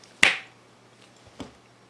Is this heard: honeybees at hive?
no